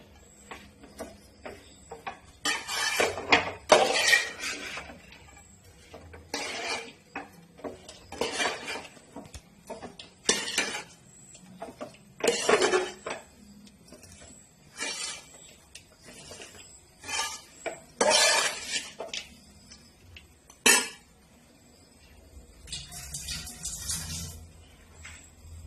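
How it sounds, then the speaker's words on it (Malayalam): A spoon clatters and scrapes against a pan while fish pickle with its spice paste is stirred, giving repeated bursts of clinks and scraping in irregular strokes, fairly close, with no talking. "ഇതെല്ലാം കൂടെ ഇങ്ങനെ ഇട്ട് ഇളക്കി കൊടുക്കും."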